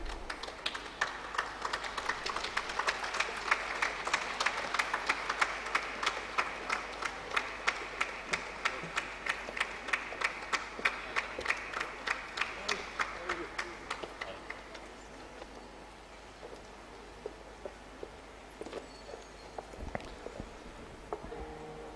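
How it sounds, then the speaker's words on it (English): An audience in a hall claps for the unveiling of a souvenir at a hospital's 25th anniversary celebration, a steady patter of many hands that builds, holds for about fifteen seconds, then thins to scattered claps. "let's have a huge round of applause for the unveiling of the souvenir"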